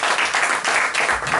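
A church congregation applauds, giving a short burst of loud, close, pulsing clapping with a faint voice mixed in.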